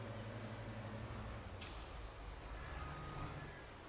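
A truck in Farming Simulator 22 rumbles at low speed, then gives one sharp hiss of its air brakes partway through.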